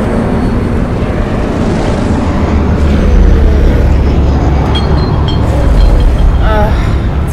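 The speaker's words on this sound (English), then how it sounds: "And of course the plane's coming." Loud, steady propeller-like drone of an airplane approaching in the Dying Light video game, a broad engine roar that holds throughout under game ambience, with faint tonal whines rising near the end.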